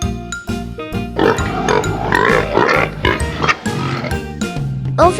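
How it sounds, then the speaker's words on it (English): Farm pigs grunt and oink in busy, overlapping bursts set over a loud, continuous music bed, with no talking. "Over here are the playful pigs."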